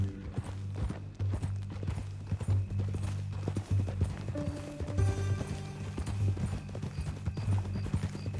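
Steady clip-clop of horse hooves at a walking pace in Red Dead Redemption 2, moderately close, with faint ambient tones in the background.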